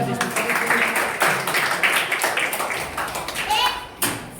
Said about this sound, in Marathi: साहेबांचे का जोरदार टाळ्या